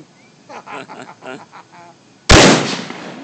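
A Remington rifle fires a single loud, sharp gunshot that cuts off a stretch of talk and then rings and decays over the last second.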